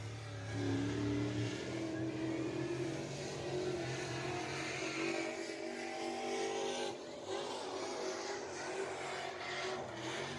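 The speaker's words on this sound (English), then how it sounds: "working lap 1 here in the Crate Racing 602 late models" Crate Racing 602 late model race cars lap the Deep South Speedway oval, a steady loud engine drone with pitch rising and falling as they come through the turns, heard from a distance with no talking.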